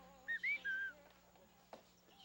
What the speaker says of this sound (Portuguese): O assobio era o sinal para irmos pro campinho.